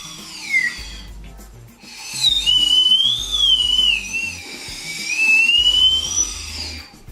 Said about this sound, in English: As you raise the straw, there is more air inside, which makes a higher pitched whistling sound.